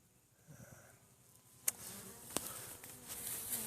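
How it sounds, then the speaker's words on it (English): A honey bee swarm clustered inside a brick wall gives off a faint, steady buzzing, with a couple of sharp clicks or taps standing out above it. "I got a swarm that has landed inside a brick"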